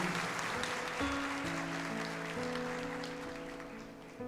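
A church congregation claps together in sustained, steady applause, fairly soft and a little distant, with sustained musical tones ringing underneath.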